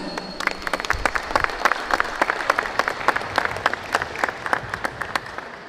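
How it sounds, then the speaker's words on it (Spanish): Audience applause at the inauguration of a Tecnológico Nacional de México campus in Tlahuitoltepec, a steady round of crisp, dense clapping from a crowd, fairly close and loud, sustained alone without speech. "pido un fuerte aplauso"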